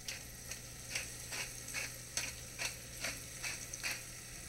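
Seasoned tomato soup stirred in a pot, a quiet run of regular scraping strokes about twice a second over a faint steady hum.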